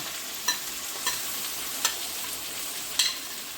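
Ginger, green chili and garlic sauté in a pan for chicken biryani under a soft, continuous sizzle, with four distinct spoon scrapes and taps spaced a second or so apart.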